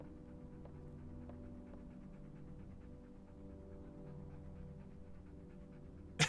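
Steady, quiet dog panting from a companion dog in the Fallout London video game, a soft continuous breathing rhythm over a low game hum, ending in a brief louder bump.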